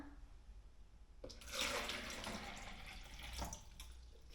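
Water poured into a container marked at 500 milliliters: a faint, quiet trickle that begins after about a second and continues as a soft, steady splashing stream for several seconds.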